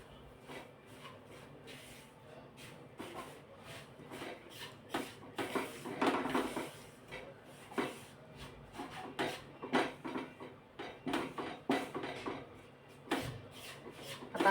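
A spoon or spatula stirs roasted maida flour, milk powder and cashew powder in a pan for a barfi sweet, making soft, irregular scraping and rubbing strokes that are quiet and close, with no talking.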